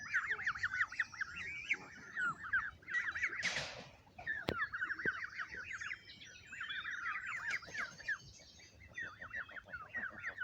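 A Canada goose family with eight small goslings calls outdoors, with rapid high peeping and squeaking bursts repeated steadily throughout and a brief louder honk-like noise near the middle.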